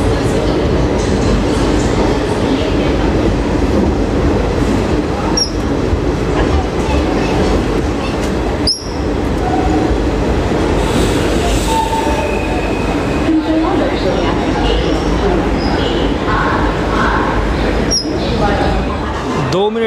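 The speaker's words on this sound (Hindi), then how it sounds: "अभी रुकी थी हमारी गरीब रथ एक्सप्रेस और अभी जलगांव जंक्शन से डिपार्ट हो रही है।" Garib Rath Express pulling out of Jalgaon Junction: a steady loud rumble of rolling coaches with wheel clatter and occasional sharp squeals, continuous throughout, with faint voices in the background.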